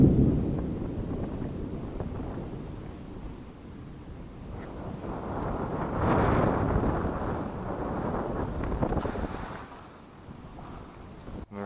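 Strong wind buffets an urban fishing spot, a loud, gusty roar that swells and fades over the whole stretch.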